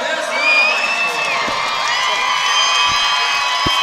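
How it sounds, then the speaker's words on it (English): Crowd at a girls' 5A state basketball game, Hobbs Lady Eagles against Volcano Vista, cheering and whooping for Volcano Vista; a loud, dense arena roar with shrill shouts that holds steady throughout, with no clear speech. "getting the final crowd cheering for Volcano Vista there"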